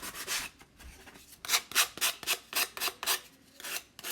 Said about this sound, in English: Do a little bit of sanding,